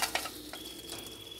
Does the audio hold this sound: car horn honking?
no